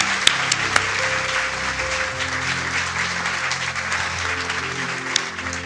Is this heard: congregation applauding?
yes